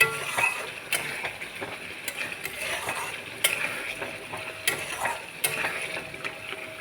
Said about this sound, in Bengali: টমেটো দিয়ে আর একটু ভাজা ভাজা করবো।